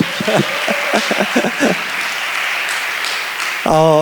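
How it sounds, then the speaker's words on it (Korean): Applause from a church youth camp congregation, continuous clapping under someone speaking in the first half, then clapping alone before a voice returns at the end. "같이 박수"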